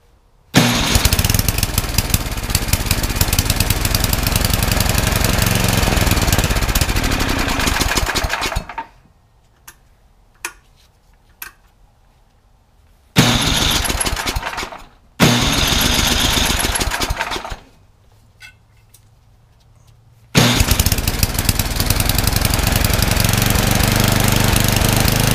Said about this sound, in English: Well, the snowblower ran